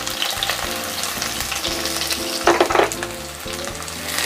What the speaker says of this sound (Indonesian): Saya tumis lebih dulu bawang putih yang sudah diiris tipis.